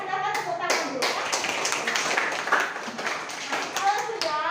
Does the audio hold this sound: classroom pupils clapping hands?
yes